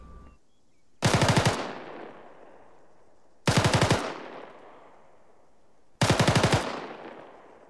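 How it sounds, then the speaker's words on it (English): Three loud bursts of M249 SAW light machine gun fire at the sustained rate, each a rapid string of shots, evenly spaced a couple of seconds apart with echoing tails. "So sustained rate of fire for the SAW. Going to sound something like this."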